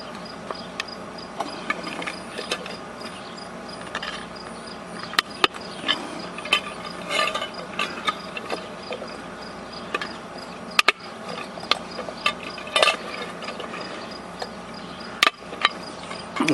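A push pin punches small holes in a metal can for a homemade alcohol stove, giving faint scattered clicks and scratchy pops at irregular intervals over a steady hiss, close and quiet with no voices.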